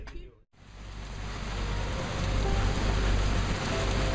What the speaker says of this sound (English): I awoke at 7 to a sudden morning rain squall. The rain came in rapidly and intensely.